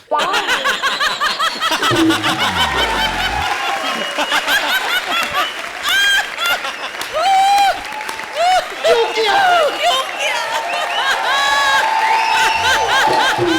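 A studio audience at the Comedy Circus comedy show claps and cheers loudly and steadily, mixed with laughter and overlapping voices.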